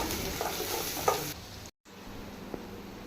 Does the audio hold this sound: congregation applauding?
no